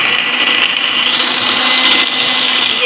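An electric beater whirs loudly and steadily, blending pancake batter of dry ingredients and room-temperature milk in one continuous high-pitched motor drone.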